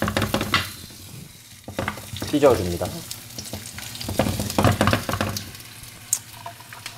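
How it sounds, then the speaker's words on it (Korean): A quarter onion hits a hot oiled frying pan and sizzles, with bursts of frying and stirring clatter close by, while a person talks briefly over it. "양파 4분의 1개 올리고,"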